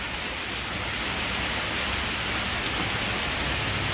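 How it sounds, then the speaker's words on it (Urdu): Heavy rain pours down during a thunderstorm in Islamabad, a dense, loud, unbroken roar of falling water with no thunder standing out. "ماشاءاللہ کافی بارش 50 ملی میٹر کراس کر چکی ہے جی بارش۔"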